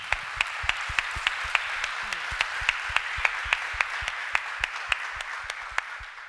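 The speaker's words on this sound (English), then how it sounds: "I thank you for applauding him" A youth fair audience on a love and abuse theme claps in a steady, evenly spaced rhythm over a low hiss, with sharp regular beats through the whole stretch and no talk.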